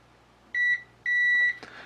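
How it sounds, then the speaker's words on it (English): A multimeter in continuity mode gives two clear electronic beeps, a short one then a longer one, steady tones on a quiet bench while ground connections of a Commodore 1541 disk drive are tested, followed by a faint click. "So ground should beep."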